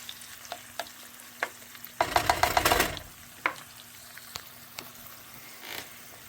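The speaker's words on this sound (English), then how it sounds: "we've mixed in our onions and we're going here at about a medium to high heat" Onions and bacon fry over medium-high heat in a pan, with a soft steady sizzle broken by sharp clicks of a utensil and a burst of loud scraping and stirring near the middle, close up and without talking.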